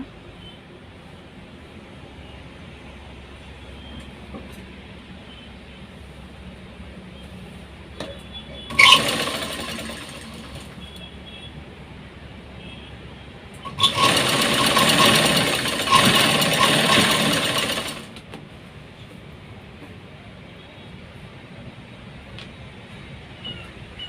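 A sewing machine stitches a blouse back strip in two bursts of rapid mechanical whirring: a short one, then a longer run of several seconds. Both sit over a steady low background hum, with no speech.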